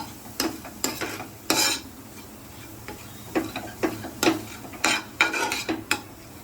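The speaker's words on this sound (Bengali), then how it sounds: "এবার সমস্ত উপকরণ আমি ছানার সাথে ভালোভাবে মিশিয়ে নিচ্ছি" Chhana filling with spices is mixed in a bowl, and a spoon taps and scrapes the sides in an irregular run of crisp clicks close to the ear.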